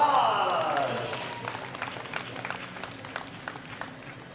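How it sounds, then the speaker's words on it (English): A crowd applauds with dense, steady clapping that gradually fades, a voice heard briefly at the start, at the World Classic Powerlifting Championships 2017, men's 59-66 kg class. "A big round of applause for Luxembourg's own Gaston Pillage."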